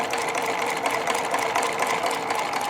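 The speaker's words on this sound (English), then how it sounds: "It's now doing the keyhole part of the buttonhole." A white Euroflair 8910 sewing machine made by Husqvarna Viking stitching the keyhole end of a buttonhole, with a steady close whirring and a fast needle hum running without a break.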